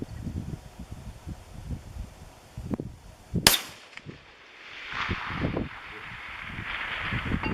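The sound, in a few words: large-bore precision rifle shot with suppressor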